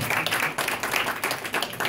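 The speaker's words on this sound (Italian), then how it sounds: "la quale anche lei facciamo un bel applauso" Audience applause at an art exhibition opening in a gallery, a crowd clapping steadily for two seconds, fairly close with dense overlapping claps.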